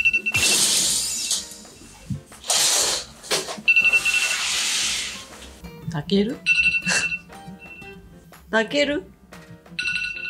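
A mobile phone alarm ringing in a bedroom, a repeating bright electronic tone in bursts, with rustling, curtain noise and a woman calling out a name over it.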